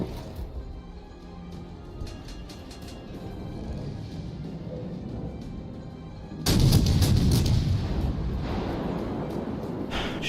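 Heavy cruiser gunfire in World of Warships Legends, with British heavy cruisers in play. A low rumbling background carries distant cracks, then one loud booming salvo hits near the middle and a heavy roar follows after it.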